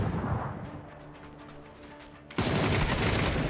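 A rapid burst of automatic gunfire from a UMP submachine gun in PUBG, a quick rattling string of shots that gives way to a loud, dense blast of noise.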